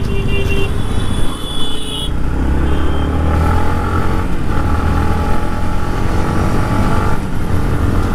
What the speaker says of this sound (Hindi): 5 के बाद आवाज़ शुरू होती है गाड़ी की।